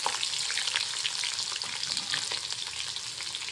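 Garlic and a coarse ginger-garlic paste sizzle and fry in a hot pan, a steady dense crackle holding at an even level throughout, with no talking over it.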